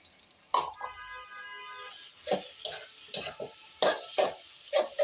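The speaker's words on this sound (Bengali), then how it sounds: "এবার এটাকে ভালো করে কষাবো।" Minced mutton is stirred and sautéed in a pan. A spoon scrapes the pan in several sharp, close strokes over a low sizzle, with no talking.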